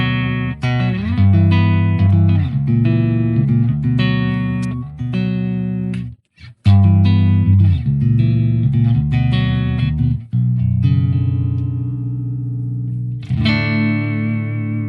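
Electric guitar played through a Blackstar AMPED 1 amp with tone adjusted for more mids and treble, loud sustained distorted chords and riffs with effects, alone, pausing briefly midway before continuing.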